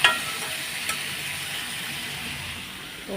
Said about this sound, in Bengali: এখন আমি নেড়ে চেড়ে নেবো কিছুক্ষণ ভেজে নেব